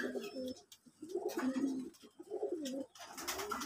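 Close, deep cooing from a broad, thick-necked Kamagar pigeon held in hand, a few rolling throaty phrases in quick succession with brief pauses between.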